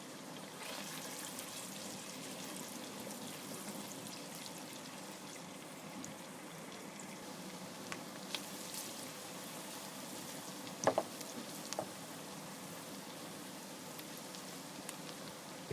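Long-cut onions sizzle in a pan over high flame, giving a steady, even, crackling hiss that runs the whole time with faint pops and no talking.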